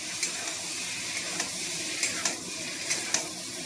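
Pointed gourd is stirred and fried in spice paste in a pan, giving a steady close sizzle broken by several soft scraping stirs, with no talk.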